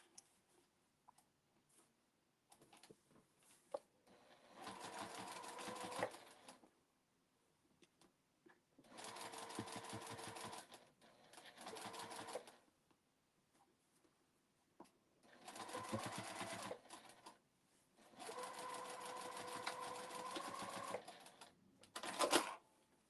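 A sewing machine stitches closed a seam on a fabric memory bear in several bursts of fast, steady mechanical clatter, each a few seconds long. Quiet pauses fall between the runs.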